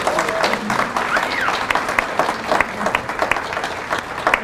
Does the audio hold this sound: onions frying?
no